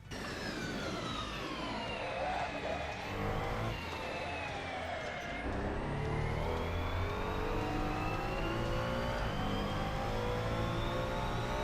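Ferrari 296 GT3 race car in Assetto Corsa powering out of turn 12 at Zandvoort in second gear, its engine note climbing steadily and loudly through the revs, a continuous close-up whine with no talk.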